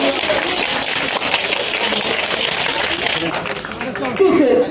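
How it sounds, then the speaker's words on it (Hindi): Clapping welcomes a speaker at a gathering, with a steady, loud mass of hand claps lasting throughout and a brief surge near the end. "जरा जोरदार तालियों से इनका स्वागत करिए"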